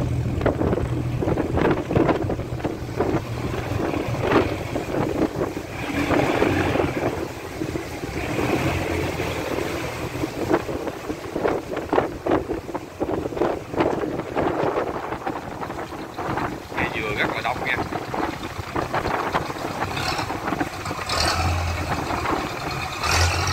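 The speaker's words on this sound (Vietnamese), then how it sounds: "Đây là những chiếc ghe dừa tăng tốc để mà đi ra cống." Coconut-laden boats speed out through a canal sluice with loud engine roar, rushing and churning water and gusts of wind buffeting the microphone for over twenty seconds.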